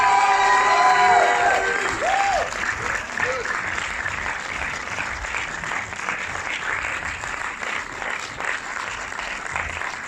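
An audience at a film premiere in Orléans claps and cheers for the film's team, a dense roar of applause with whoops over a voice at the start, then steady clapping that eases slightly.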